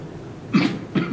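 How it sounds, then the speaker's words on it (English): Two separate coughs from a single person, fairly close and moderately loud, the second about half a second after the first, with nobody speaking. "I told you that about the cough"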